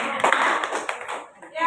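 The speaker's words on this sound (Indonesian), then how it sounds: "Tepuk tangan yang meriah lagi buat" Brief burst of classroom clapping from students in an Indonesian lesson, loud and dense at first, then thinning out and fading over under two seconds.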